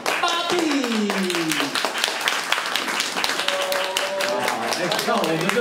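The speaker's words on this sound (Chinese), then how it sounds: "我们掌声欢迎郎祖筠" An audience applauds the cast of a stage play, a burst of crisp overlapping hand claps heard close while a voice speaks over the clapping.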